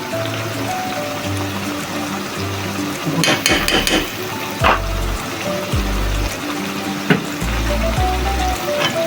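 Beef liver with ground spices sizzling steadily in a pan, a close, continuous frying hiss with occasional stirring clatter and low hum underneath.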